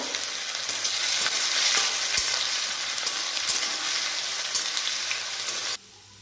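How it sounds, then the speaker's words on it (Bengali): Chopped ginger crackles and hisses in hot oil for cholar dal while a spoon stirs it with occasional scrapes; the sizzle stays steady and close, then cuts off abruptly near the end. "এবার এর মধ্যে আমি আদা কুচিগুলো দিয়ে দেবো। একটু নেড়ে দেবো।"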